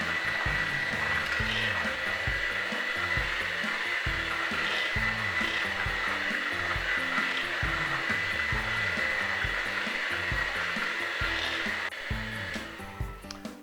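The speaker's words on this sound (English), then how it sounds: "We're going to get our mixer. We're going to fluff this up." Electric hand mixer whipping a third of a cup of shortening for tamale dough, a steady loud motor whir with rhythmic beater chatter running continuously, tapering slightly at the end.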